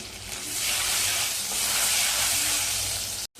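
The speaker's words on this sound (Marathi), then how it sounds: "लसूण चांगला लाल होईपर्यंत भाजून घ्यायचा आहे" Chopped garlic frying with cumin seeds in hot oil gives a loud, close, steady hissing sizzle that swells slightly midway, then cuts off abruptly near the end; no voices.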